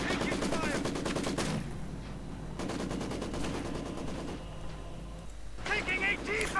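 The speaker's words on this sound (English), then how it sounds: "Grenadiers, they're getting stopped by the veterans of one machine gun crew." Machine gun crew fire in the strategy game Company of Heroes 2, rapid rattling bursts stopping advancing grenadiers, two long bursts with a pause between and a third starting at the end, heard under a commentator's steady talk.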